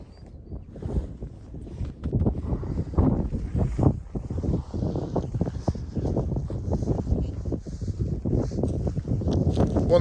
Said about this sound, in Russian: Спускаемся. Сильный ветер.